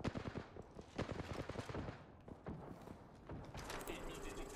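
Gunfire in Apex Legends comes as rapid bursts of shots mixed with game effects, fairly loud, with a voice talking over part of it.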